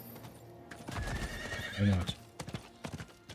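Horse hooves clopping with a brief neigh from the game Diablo IV, game-like sound effects, mixed with a voice talking over them.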